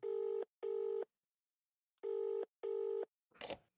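A telephone in the game Escape Ever After gives two pairs of clean electronic ring tones separated by a short silence, followed by a brief rustling crackle.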